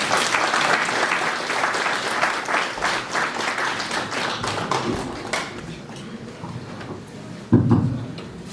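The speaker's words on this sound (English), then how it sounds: "Round of applause, please" An audience in a seminar hall applauds at a college Science Day event with dense, lively clapping that tapers off. A few knocks and a brief thump come near the end.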